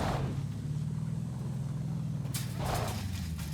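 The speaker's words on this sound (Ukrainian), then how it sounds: "коли я вмикаю меню, то тут якісь незрозумілі звуки машин" Car engine sounds in the Forza Horizon 5 game menu: a continuous low engine hum with a faint revving drone, steady throughout, with a couple of brief whooshing swells.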